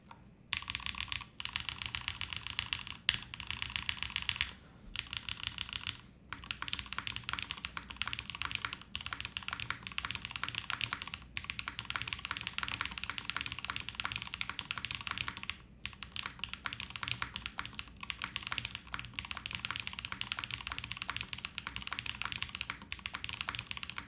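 Neo65 mechanical keyboard with GMK Voyage and Grand Prix keycaps on an aluminum plate in an O-ring build, typed on in fast continuous bursts of crisp clacky keystrokes, close and clear, with brief pauses between runs.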